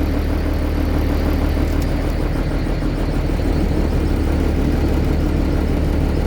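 A truck engine idles steadily while warming up on a bitterly cold winter morning in Canada, a loud, continuous low rumble and whir with no talking.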